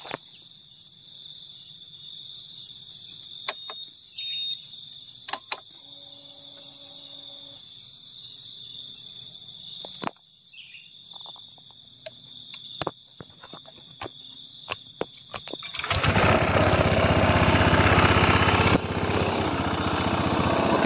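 A standard Honda Vario 160 scooter with simple modifications starts up after a stretch of steady cricket chirping, then runs with a loud, broad engine noise close by for the last few seconds.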